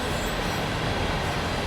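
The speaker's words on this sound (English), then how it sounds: "363 pushing container train into the sidings there" A Class 363 shunter pushing a container train on the Main Spessart Bahn in Train Sim World 4, heard as a steady, dense rolling rumble of wheels and wagons with no pauses.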